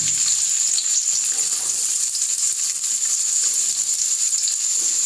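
Onions dropped into heated oil for a Hyderabadi chicken curry, giving a loud, continuous hiss and crackle throughout, close and steady, with no voices.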